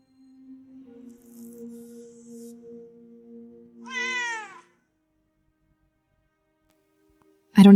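A cat meows, first a long steady tonal cry, then a short rising-falling meow, followed by silence and a brief sharp sound at the very end.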